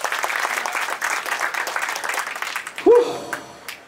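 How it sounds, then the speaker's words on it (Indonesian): Lively audience applause at a stand-up comedy roast welcomes Walet and Saka of the Bli podcast, a steady dense clapping that fades near the end as a short vocal sound cuts in. "Beri tepuk tangan yang meriah untuk Walet dan Saka dari podcast Bli."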